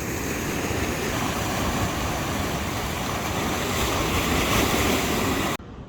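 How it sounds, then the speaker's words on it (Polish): Steady roar of surf breaking on a Lanzarote shore with gusty wind rumbling across the microphone, loud and unbroken until it cuts off abruptly. "O, idzie fala."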